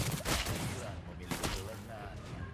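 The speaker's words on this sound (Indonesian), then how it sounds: "Ternyata tembakan Clean cukup besar juga damage-nya" Clint's gunshots in the mobile game Mobile Legends, a few sharp bursts of gunfire with a busy layer of battle effects underneath.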